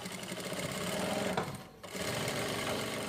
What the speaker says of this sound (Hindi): बिल्कुल किनारी से हम सिलाई लगाएंगे।